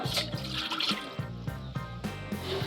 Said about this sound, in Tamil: ஒரு 1/2 கப் தண்ணி சேர்த்துக்குங்க